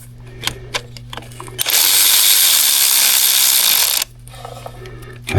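A ratchet works a 13 mm bolt on the alternator of a 2011 Buick Regal 2.0 Turbo, with a few sharp clicks, then a loud steady mechanical whir for about two seconds, then quieter clicks and handling noise.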